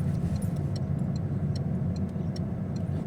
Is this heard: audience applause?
no